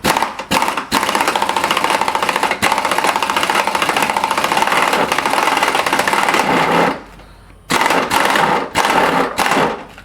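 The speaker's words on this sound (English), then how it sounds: "let's get started crushing this stuff" A rock crusher breaking up quartz vein ore in a continuous, loud, rapid mechanical rattle and grind, with a short drop-off around two-thirds through before the clatter resumes.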